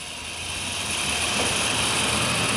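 A used 11 x 18 inch Hardinge precision toolroom lathe spinning at 700 RPM in high range, giving a constant loud broadband whir with a high whine that climbs slightly and then holds steady, with no voices.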